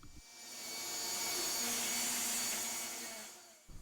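A table saw rips a hard maple board to width for a mallet handle, a loud, steady whine of the blade through wood lasting a few seconds, starting and stopping abruptly, with no talk.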